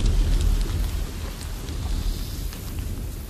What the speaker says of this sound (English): soldiers on both sides caught what sleep they could under a heavy downpour.